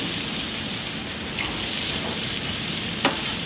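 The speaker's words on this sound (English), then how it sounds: "Okay, we got our grill nice and hot now. We're going to do our salmon" Salmon sizzling on a hot seafood grill, a steady dense frying hiss with faint crackles and a few small pops, continuous and close, no voices.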